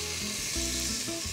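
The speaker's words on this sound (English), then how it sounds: "Toast off those spices" Ground spices including turmeric toast in a pan for a Middle Eastern eggplant and lamb stew, giving a dense, continuous close sizzle with faint stirring underneath.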